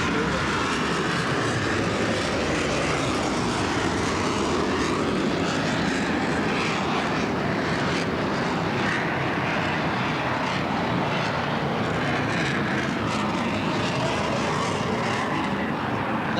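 A military jet with 32,000 pounds of thrust powers out of a low-speed maneuver at a naval air show, producing a sustained, loud, roaring engine blast that stays dense and unbroken for the whole stretch.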